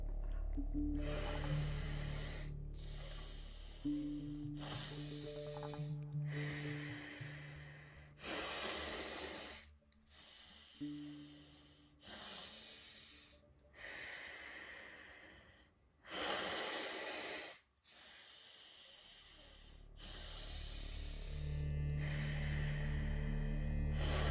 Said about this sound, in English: From the same nostril I'm breathing again.